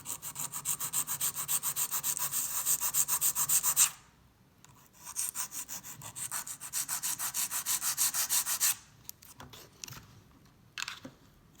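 A nail file rasps back and forth in fast rhythmic strokes while rough filing a long squared sculpted acrylic nail, close and alone, in two main runs with brief pauses.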